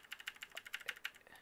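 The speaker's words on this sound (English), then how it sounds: "Oh, you're still typing in the command." Rapid, steady typing on a computer keyboard, dense soft key clicks in an even rhythm, faint and close.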